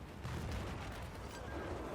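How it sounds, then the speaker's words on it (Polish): A dull, rumbling blast with a noisy, sustained roar, fairly quiet and muffled, an explosion in the game Battlefield 4. "Wow, ale wybuchło."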